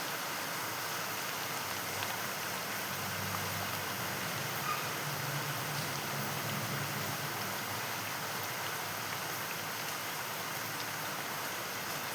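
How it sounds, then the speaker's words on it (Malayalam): Rain falls steadily outdoors as a soft, even wash of patter that carries on throughout at low level, with no voices. "ഇപ്പോൾ ഇവിടെ നേരത്തെ മഴ തോർന്ന് അടുത്ത മഴ പെയ്തുകൊണ്ടിരിക്കുന്നുണ്ട്."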